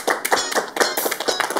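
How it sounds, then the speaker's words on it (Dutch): Audience applause at a local business event in Venray, heard as a loud, dense burst of clapping close by, lasting under two seconds. "Applaus."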